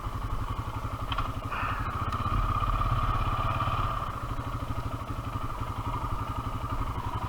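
A Honda Foreman 450 ATV rides along a trail, its engine a steady close putter with rhythmic pulsing and occasional rattles and clatter, running without a break and with no talking.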